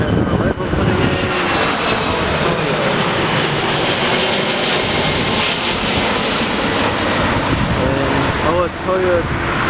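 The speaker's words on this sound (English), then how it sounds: "We have an arrival coming in." An arriving airliner at O'Hare airport rumbles loud and continuous, a broad jet-engine roar sustained throughout with faint tonal whine, while people talk in the background.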